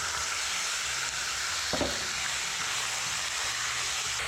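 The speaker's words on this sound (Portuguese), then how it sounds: "Cebola refogada, acrescente a carne." Beef fries with sautéed onion in a pan for strogonoff, a continuous loud sizzle with one brief low thump partway through, close and without speech.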